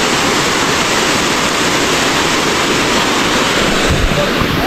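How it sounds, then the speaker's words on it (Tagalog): A waterfall in the middle of a Mindanao forest roars in a steady, loud, dense wash of falling water that runs unbroken throughout. "Nasa gitna ng kagubatan yung falls na to"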